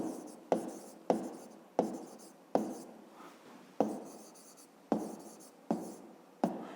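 Hand writing in a math exercise book, a steady series of close pen strokes and taps, each sharp onset followed by a short scratchy tail, with no talking.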